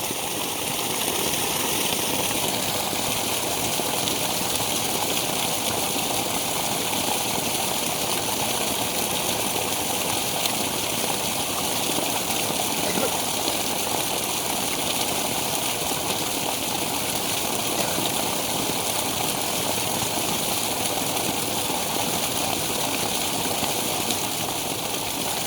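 Water gushing steadily from a newly drilled tube well in Sabah, Malaysia, making a continuous broadband rush that holds at an even level for the whole stretch, with no voices over it.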